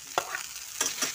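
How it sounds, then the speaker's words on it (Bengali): Shrimp and hilsa fish heads fry in a pan with a steady, close sizzle, broken by a few brief stirring scrapes and clatters. "চিংড়ি মাছ দেবো আর ইলিশ মাছের মাথাগুলো দিয়ে দেবো"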